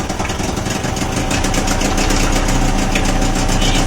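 An old outboard motor runs at idle after starting, giving a steady, loud, rough mechanical rumble with a rapid pulsing beat that holds constant throughout.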